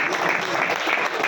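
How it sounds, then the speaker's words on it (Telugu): Applause from an audience at a business gathering, a dense continuous clapping that is loud and close throughout the short stretch. "ఒకసారి గట్టిగా క్లాప్స్ ఇస్తాం సార్"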